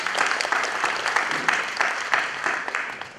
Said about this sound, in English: let's just give a round of applause for having us here today